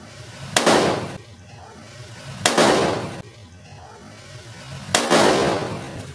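Three loud, sharp cork-gun shots from a full-metal CO2 revolver, each a sudden bang with a short decaying tail, spaced about two seconds apart, close to the mic with no talk between.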